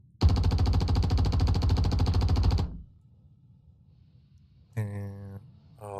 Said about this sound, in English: fire guns now